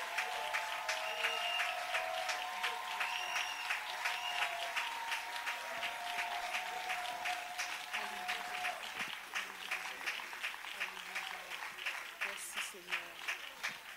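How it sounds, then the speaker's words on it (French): A church congregation greets a man with clapping and acclamations, sustained applause mixed with cheering voices and sustained tones, the clapping growing more rhythmic and uneven toward the end. "Nous allons recevoir avec des acclamations bien nourries en raison de ce que le Seigneur a fait."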